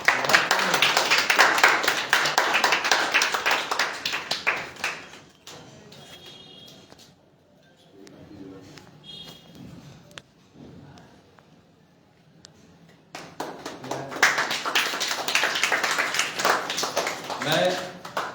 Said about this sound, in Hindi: ताली मारो साहब।